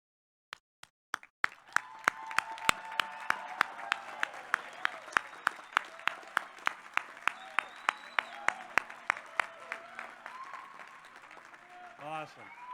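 Graduates at a commencement ceremony break into loud applause after a few scattered early claps, sustained dense clapping with distinct sharp hits that gradually fades, with voices at the end.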